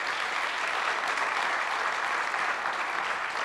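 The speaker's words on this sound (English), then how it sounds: "Please give them a round of applause." An audience at an evening round-table discussion applauds with steady, even clapping throughout, moderately loud and with no talk over it.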